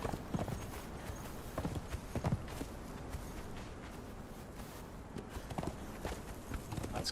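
Horse hooves clip-clop steadily in the video game Conan Exiles as a mount walks and climbs, the soft uneven hoofbeats quiet and continuous against a faint background.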